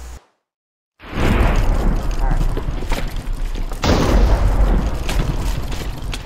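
Single loud gunshot-like boom from a presentation sound effect, followed by a sustained rumbling wash of noise that surges again midway.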